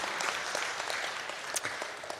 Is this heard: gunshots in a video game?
no